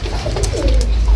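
A fancy pigeon gives a short, close, loud coo, a deep throaty sound lasting about a second.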